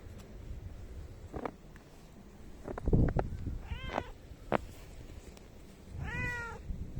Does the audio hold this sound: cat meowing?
yes